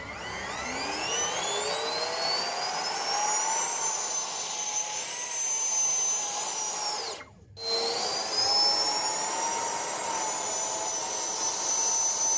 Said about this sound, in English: Our 3D print Harrier lift off vertically on its own.